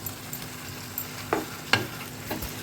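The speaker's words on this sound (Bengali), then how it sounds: "এটা এখন একটু করে জল দেবে আর কষাবে" Curry being stir-fried in a pan as water is added a little at a time, with quiet background hiss broken by a few sharp sizzling bursts and stirring scrapes, close and fairly soft.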